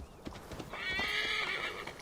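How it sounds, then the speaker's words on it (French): A horse mount in the video game Assassin's Creed Valhalla arrives with a few soft hoof clops, then lets out a loud, drawn-out whinny. "Je vais appeler ma petite monture."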